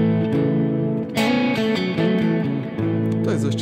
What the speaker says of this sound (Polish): Później mamy akord A-dur, czyli standardowy w tej tonacji E-dur akord subdominanta, z tym, że nie gram prymy na piątej strunie jako najniższy dźwięk